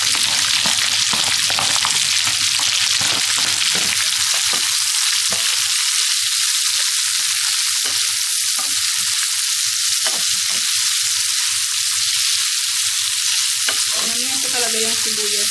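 Onions fry and brown in a hot pan, a loud steady sizzle filling the whole clip with occasional scrapes and stirring clatter, no voices.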